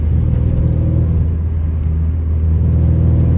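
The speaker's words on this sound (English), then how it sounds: "The engine just feels like it needs tuned up." A trashed Honda Civic EK coupe with a VTEC engine, running rough and in need of a tune-up, gives a loud, steady rumbling drone close by, with no throttle blips and no talking.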